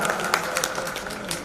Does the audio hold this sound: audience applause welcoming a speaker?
yes